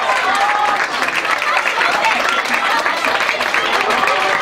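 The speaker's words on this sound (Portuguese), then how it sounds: "A manifestação da torcida vem em forma de gritos e de aplausos." A crowd at a winter swimming competition applauds and cheers, dense continuous clapping with shouts blended in, loud and steady throughout.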